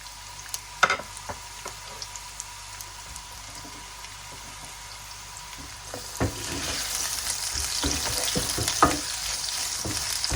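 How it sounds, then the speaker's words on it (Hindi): Onion frying in a little oil in a kadai, a soft continuous sizzle with scattered crackles that swells and grows denser after the midpoint, with occasional stirring clicks and no talk. "फ्राई करने के लिए कढ़ाई में थोड़ा सा ऑयल डाल लेंगे। इसमें एक दरमियाने साइज का प्याज डालेंगे।"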